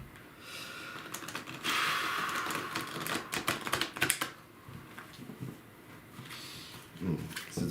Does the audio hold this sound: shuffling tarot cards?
yes